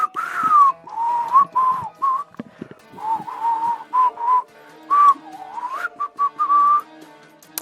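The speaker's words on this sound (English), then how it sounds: "he's whistling the opening" A person whistles the opening tune of the visual novel Riddle Joker, a close, clear melody of short phrases broken by brief pauses, with faint background music underneath.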